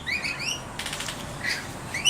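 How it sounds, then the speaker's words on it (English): Parrots in a bird sanctuary chirp in short bright bursts while wings flap nearby, with calls scattered across a brief morning moment. "I counted 35 parrots."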